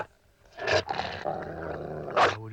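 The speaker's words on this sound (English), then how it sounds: "Or would you have me release my dog?" A dog growls and snarls up close in low, rough bursts, rising into two louder snarling peaks, with no speech over it.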